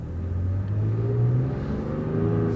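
A car climbing a hill with its ECT power mode switched on, the engine droning loudly and rising steadily in pitch as it revs higher before shifting; close, sustained and with no talking.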